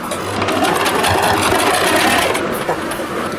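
A sewing machine runs steadily as it stitches pleats into a lehenga for a deity's poshak, a loud close, even mechanical whir with a low rhythmic thump and no pauses.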